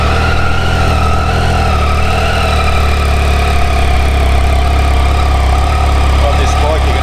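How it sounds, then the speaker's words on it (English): A 2017 Triumph Tiger XCX 800 motorcycle engine idles close by, a loud, steady mechanical drone with a faint high whine running over it and no break for the whole stretch. "I'll just turn the motor on, you can have a bit of a listen to it."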